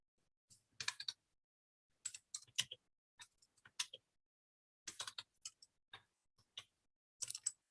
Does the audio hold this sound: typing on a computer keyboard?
yes